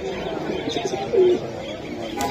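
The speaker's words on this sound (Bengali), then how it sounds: "এই জায়গায় কিছু রেসার কবুতর আছে" A racing pigeon gives a short, soft coo close by at a pigeon market, with faint chirps and a low background murmur.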